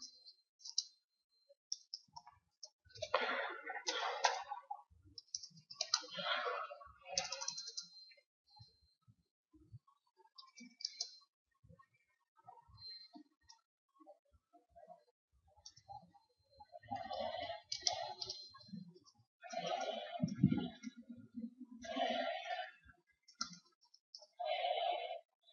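Computer keyboard being typed on while an assembly program is written in the Keil development tool: soft, quiet clicking keystrokes in irregular bursts separated by pauses, with no voices.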